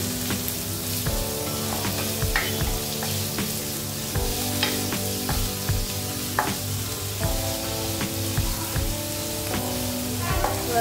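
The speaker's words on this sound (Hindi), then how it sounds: "और इसे फिर डार्क ब्राउन होने तक अच्छे से भून लेना है।" Paneer bhurji frying in a pan until dark brown, a steady, dense sizzle and crackle throughout with occasional scraping stirs, close and continuous with no talking.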